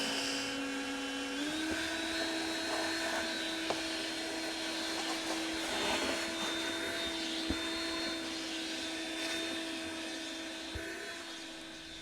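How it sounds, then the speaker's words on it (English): A vacuum cleaner running aboard a boat, a steady high-pitched motor whine that spins up early and holds, with a few brief clicks and bumps, loud and alone. "All right, MVP of this process, the vacuum cleaner."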